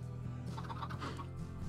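A chicken in the Minecraft video game gives a short run of soft clucks, several quick, close, faint calls over a low steady hum.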